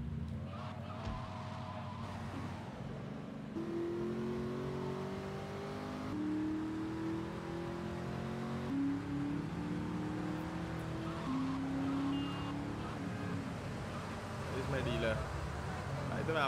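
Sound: motorcycle riding in video game GTA Vice City

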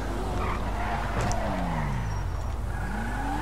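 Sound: sports car skidding in GTA 5 video game

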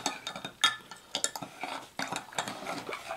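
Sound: stirring seasoning mix with black pepper in a bowl

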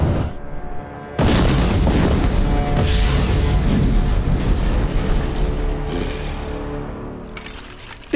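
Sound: cannon fire

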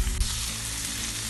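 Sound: capsicum frying in a pan

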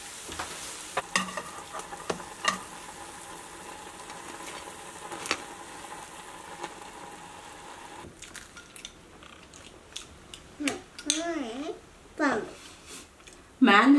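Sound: steamed bun slices frying until golden

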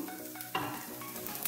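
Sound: sautéing onions in a pan

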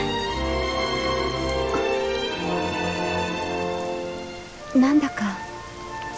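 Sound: rain falling in the video game Dragon Quest XI S

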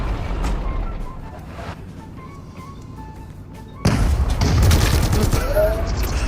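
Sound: gunfire from a tank gun in video game PUBG Mobile

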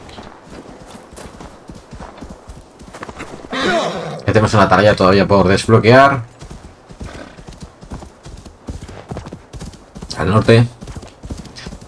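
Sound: horse hooves galloping in Assassin's Creed Valhalla video game

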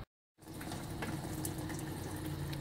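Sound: fluid draining from car into a bucket

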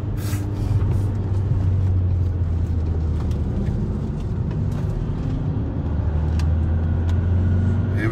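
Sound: van driving on racetrack as supercars overtake

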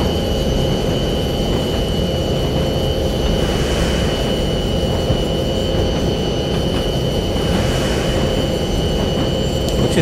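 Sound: train running in Train Simulator 2020 video game

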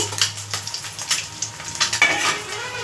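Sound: stirring frying eggplant pieces in a pan

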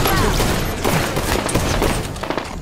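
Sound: plasma caster firing in a video game

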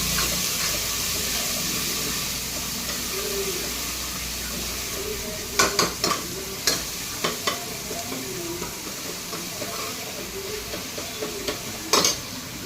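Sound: onion sautéing in a pan

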